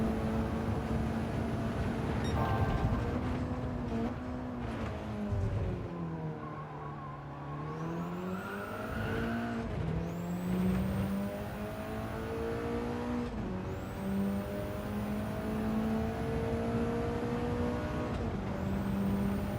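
Mitsubishi race car engine in Gran Turismo 7 at the Red Bull Ring, revving steadily and continuously with pitch rising and falling through gear changes, loud and alone for the whole stretch.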